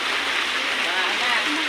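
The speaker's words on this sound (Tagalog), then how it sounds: "Tuloy-tuloy kasi yung ulan. Walang tigil. Lakas ng agos." Strong current of floodwater rushing steadily under continuous heavy rain, a dense unbroken wash of flowing water close by with no pauses.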